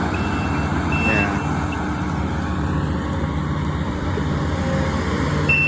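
A skid steer reversing while digging a ditch on a farm, its backup beeper sounding steadily over a constant engine rumble, with voices talking nearby.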